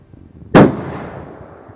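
A single gunshot fires at a military shooting range during women's commando firearms training. It is a sharp, loud, close crack that trails off in a short echoing decay, with no talk around it.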